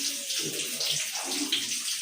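Water is poured into a pot of rice as it cooks at home, giving a close, steady splashing pour that runs for about two seconds without a break.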